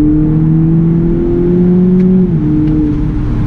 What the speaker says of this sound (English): the exhaust note really sets this car off. It sounds brilliant.